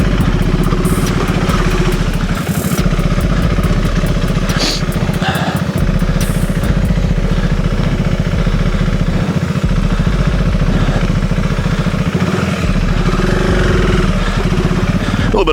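A 2001 Yamaha TW200 trail motorcycle engine runs loud and steady for the whole stretch, with a throbbing low drone, mechanical clatter and occasional revving swells, riding on dirt.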